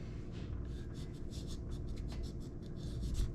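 A knife is drawn through a sharpener in a string of repeated short scraping strokes, soft and close over a low background rumble.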